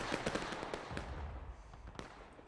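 Artillery booms and scattered gunfire in the War of Rights game during a Civil War public match at Dunker Church, a series of sharp mid-distance reports, denser at first, then sparser, with one louder blast near the end.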